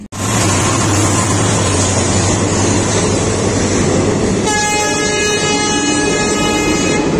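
A train thunders past at close range at a railway crossing, a steady loud rumble and clatter of wagons filling the whole stretch, with a sustained horn-like tone joining in the latter part.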